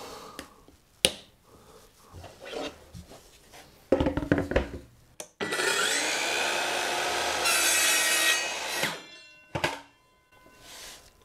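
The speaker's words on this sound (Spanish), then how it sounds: "Si yo quisiera cortar este trozo de madera con la sierra" A circular saw crosscuts a piece of wood along a guide, the motor spinning up after some knocks and handling, then a loud sustained cut for several seconds before it winds down.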